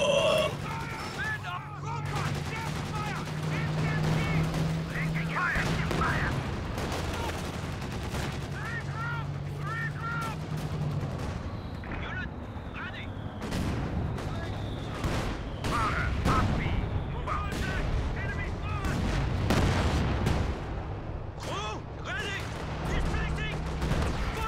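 Mortar and artillery fire thump through a 4v4 Company of Heroes battle on Hill 400 with Siegfried Line fortifications, dense booms and gunshots layered over constant rattling machine-gun fire and battlefield din, loud and continuous throughout.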